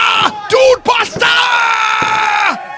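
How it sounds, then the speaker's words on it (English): Wrestling crowd yelling and screaming in celebration after Joey Conway retains the EAW title, a loud, sustained roar of shouting voices that swells and holds close by. "the crowd firmly behind and celebrating Joey Conway retaining the EAW title"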